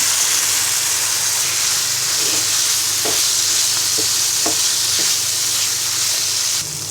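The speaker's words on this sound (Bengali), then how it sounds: "এবার আমরা ভাজা কলিজাটা দিয়ে দিব।" Fried liver goes into spiced masala in a pan, hissing and sizzling loudly throughout while a spatula stirs and scrapes in several distinct strokes.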